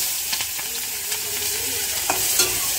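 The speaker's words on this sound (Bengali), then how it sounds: "পেঁয়াজ কুচি দিয়ে দিচ্ছি" Chopped onion hits hot oil already seasoned with cumin seeds and a dried red chilli, giving a steady close sizzle with occasional scrape-like stirring clicks throughout.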